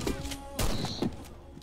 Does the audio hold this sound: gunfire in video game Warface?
yes